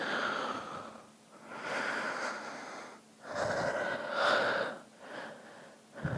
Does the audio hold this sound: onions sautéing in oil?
no